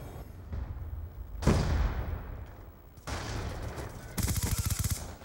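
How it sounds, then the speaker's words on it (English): A Hellstorm missile strike in Black Ops 2 on the Nuketown 2025 map, with a loud impact blast followed by rumbling explosions and a burst of rapid gunfire near the end. "Hellstorm missile inbound."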